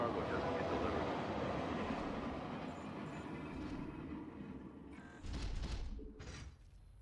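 A train rumbles along in the StarCraft 2 video game, a loud continuous rolling clatter that eases off, then a few metallic clanks and a short burst of game effects follow.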